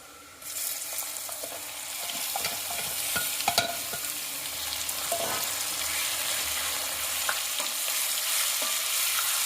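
Prawns for a ghee roast are stirred and mixed with green masala in a hot pan. A constant close sizzle starts after a short pause, with repeated scraping and clinking of the spoon against the pan.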